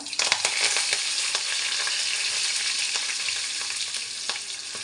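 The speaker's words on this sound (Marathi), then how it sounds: "वरणाला हिंग टाकायचं कढीपत्ता टाकायचा" Asafoetida and curry leaves hit hot oil for a dal tempering with a loud, close, continuous sizzle and crackle, broken by small stirring scrapes and pops, no talking.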